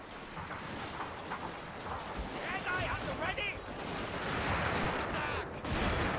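Cannon and gunfire in a video game recreation of the Battle of Osaka Castle, with repeated booms and crackling shots blending into a dense, continuous battle din at steady loudness.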